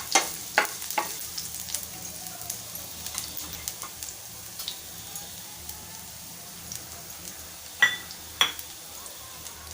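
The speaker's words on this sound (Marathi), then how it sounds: "छान असा परतून घेऊया।" Finely chopped garlic, four or five cloves, sautés in hot oil for samosa filling, giving a steady sizzle broken by occasional sharp pops and scraping stirs close by.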